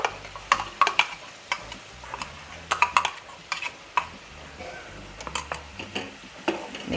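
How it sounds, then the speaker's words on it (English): Coconut, tomato and green chili paste going into a kadai and stirred for a seer fish curry: irregular clanks and scrapes of a spoon against the pot over a soft, low sizzle, close by and without speech. "We'll add the coconut and tomato chili paste to the kadai, to the pot."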